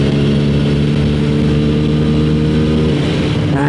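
A TVS Apache 160 4V or Bajaj Pulsar N160 motorcycle in first gear and sport mode pulls hard from standstill, its loud, steady engine drone with strong harmonics holding close and continuous, shifting tone near the end.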